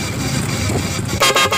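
A loud Fuso truck horn fitted to a bicycle blares close by in a few short honks near the end, over traffic noise.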